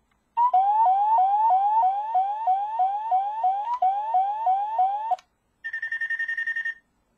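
An electronic toy siren from a Kakuranger Doron Changer wails in rapid rising sweeps for several seconds, then a shorter pulsing high beep pattern follows, loud and close.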